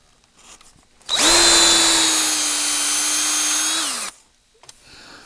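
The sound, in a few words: power drill drilling out fishing rod foregrip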